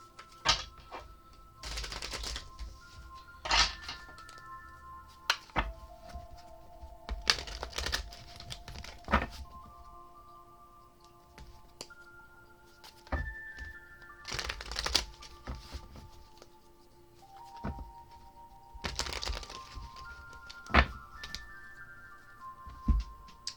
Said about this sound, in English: we're going to shuffle up the chakra wisdom cards